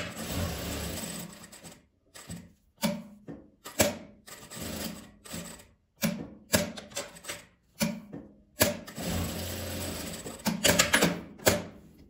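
A sewing machine stitches the seam of a double-layer fabric piece in short bursts of rapid mechanical clatter, stopping and starting several times with brief pauses between runs, fairly close and steady.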